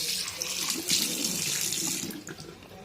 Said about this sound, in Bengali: কালকে বেসিংয়ে দেখো এই নতুন কলটা লাগানো হয়েছে